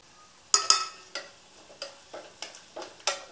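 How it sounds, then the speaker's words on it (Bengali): Lentil dumplings (bori) frying in hot oil, heard as a series of sharp, close crackles and spits arriving about twice a second over a quiet background, each burst fading quickly. "এবার আমি অল্প একটু বড়ি, 3 খানা মতন বড়ি আমি ভেঙে এর মধ্যে দিয়ে ভেজে নেব।"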